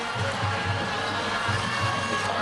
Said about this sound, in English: And now the Cypress Bay crowd will start to make some noise